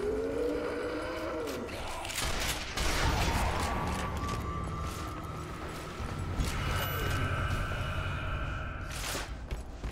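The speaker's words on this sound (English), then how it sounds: "Bombs going off in the sky?" Bombs burst overhead during a zombie shooter battle in Zombie Army Trilogy, a dense, continuous barrage of booms and gunfire-like cracks with no quiet gaps, heavy and close throughout.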